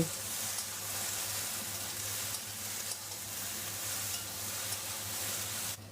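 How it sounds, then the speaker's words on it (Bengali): Okra fries in mustard oil in a pan, with a steady soft sizzle and crackle running throughout. It is fairly quiet, and no one speaks. "ভেন্ডিটা ভেজে নেব"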